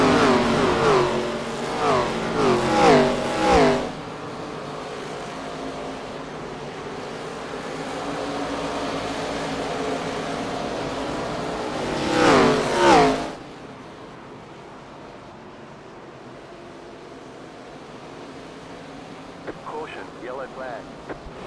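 Race cars speed up around the Bristol track in a racing game, engine revving rising in two loud passes near the start and middle, with steady engine drone between and quieter noise after.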